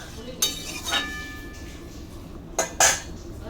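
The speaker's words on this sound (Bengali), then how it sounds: "চলো তাড়াতাড়ি করে বাঁধাকপিটা কেটে নিই" Kitchen knife clacking on a cutting board while a small cabbage is chopped, several sharp, bright knocks and clinks at irregular intervals against a quiet background.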